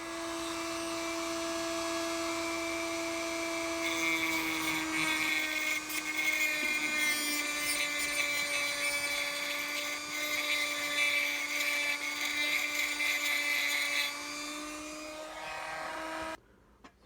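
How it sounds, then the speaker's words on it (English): A Dremel rotary tool smooths the sharp edges of a hacksaw-cut model railroad piece, a loud, steady high-pitched whine that runs unbroken for over fifteen seconds before cutting off abruptly. "I'm just gonna Dremel this just to make it look smooth"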